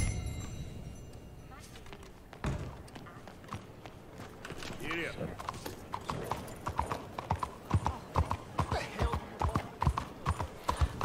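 A horse in Red Dead Redemption 2 walks with clip-clopping hooves that start faint and grow into a steady, close, rhythmic beat, with a brief snort or whinny and someone talking over it.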